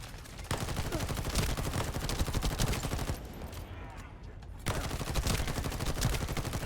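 Rapid automatic gunfire in The First Descendant, a steady stream of close, loud shots that drops out briefly partway through and then resumes at full intensity.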